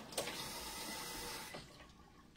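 A facial cleansing sponge is wetted under running tap water, a steady close rush of flow that tapers off near the end.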